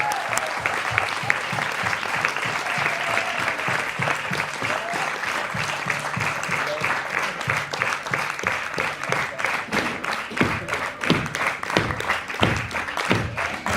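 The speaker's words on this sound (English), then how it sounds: "Give a round of applause for Urban Artistry" Sustained applause from a crowd at the Clash CPH 2017 dance event, honoring the Urban Artistry dance group; dense, steady clapping runs throughout at close range, with faint voices mixed in.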